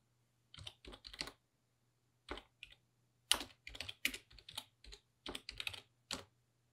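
Quiet, close keystrokes on a computer keyboard come in short bursts separated by pauses, as text is typed in Illustrator CC, with no voices.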